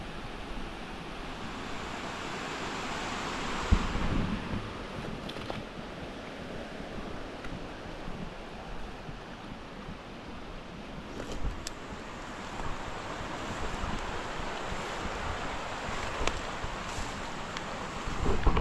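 Irrigation water spilling over its channel outdoors on a farm gives a steady, broad rushing wash that lasts the whole stretch, with wind buffeting the microphone and no voices.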